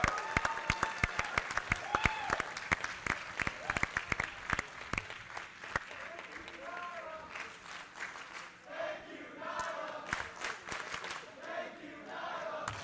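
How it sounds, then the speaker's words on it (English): Wrestling crowd at a GO Pro Wrestling show applauding Nyla Rose, sharp rhythmic claps at first giving way to a loud crowd roar with cheers and shouts. "Crowd showing their respect and appreciation for Nyla Rose."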